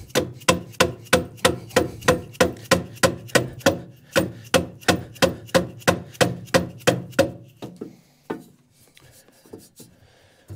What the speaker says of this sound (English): I'm going to go grab a hammer and we'll just give this thing a couple taps